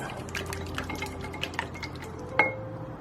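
Ingredients for a paleo chocolate pie get stirred in a bowl, with soft scraping and clinks of a utensil against the bowl and one sharper tap near the end, close and moderately loud with no talking.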